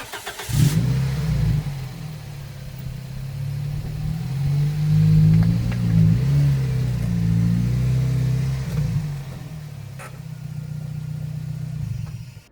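A Toyota Yaris T Sport's engine idles and then revs gently as the car creeps up onto ramps, a low steady hum that swells and settles, with a faint click near the end.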